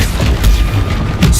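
Confringo fire spell going off in Hogwarts Legacy, a deep booming blast with a rumbling low end that swells twice in quick succession, loud and close, with no talking.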